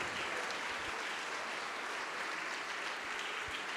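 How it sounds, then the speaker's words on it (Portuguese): A church congregation applauds steadily during a worship service, a dense, even wash of many hands clapping that holds without a break; no talking. "Vamos aplaudir mais ao nome de Jesus."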